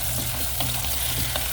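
Tomato and onion fry in a pan with a steady, close sizzle that holds without a break for the short moment, and no voices can be heard.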